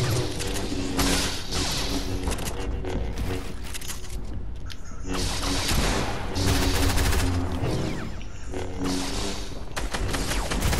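Rapid bursts of automatic gunfire from a Warzone match crackle through dense, continuous game noise, with several volleys and short pauses across the span.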